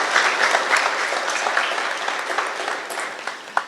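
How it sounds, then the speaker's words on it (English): A roomful of people at a cannabis business networking event clap for the speakers, a short burst of dense applause that thins out toward the end, with one sharp clap near the close. "Let's give them a round of applause."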